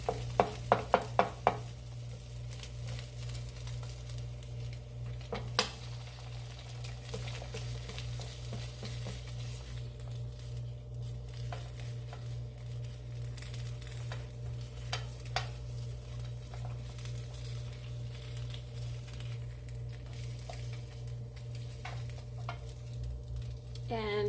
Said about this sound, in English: Now with our egg, I'm just going to put it on my spatula and flip it over.